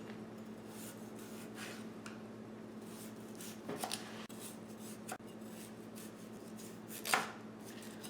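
Knife slicing the sides off a cucumber on a cutting board, a few quiet, scattered cuts and knocks, close but faint.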